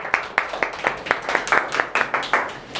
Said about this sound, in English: All right, everybody, come on, give a clapping.